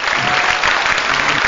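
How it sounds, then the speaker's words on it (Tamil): Studio audience applauding on a Tamil TV show stage, dense steady clapping, loud and close throughout with no talk. "சூப்பர் எக்ஸ்ட்ராடினரி ஒரு நல்ல ஒரு கைதடுங்க"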